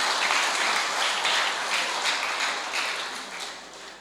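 A church congregation at the opening of a GPM Waimahu parish assembly breaks into loud, sustained applause that fills the room and tapers off slightly toward the end.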